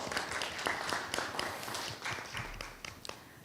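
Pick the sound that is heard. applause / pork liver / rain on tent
applause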